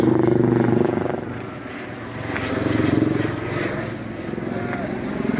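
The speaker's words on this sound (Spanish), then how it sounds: "La planta de Sencata están sobrevolando aquí 2 helicópteros." Helicopter rotor noise from two helicopters throbs overhead above the Senkata plant in El Alto, Bolivia, loud and steady, with people talking underneath.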